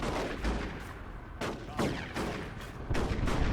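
Rapid battlefield gunfire from a Dawn of War 2 match between Chaos Space Marines and Space Marines, with plasma gun and heavy bolter shots in sharp repeated bursts and booming impacts, loud and dense throughout.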